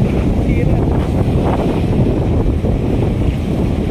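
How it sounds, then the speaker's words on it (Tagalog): Strong wind at Manila Bay during bad weather roars steadily, buffeting loudly and continuously with a dense rumbling rush throughout. "malakas na yung hangin."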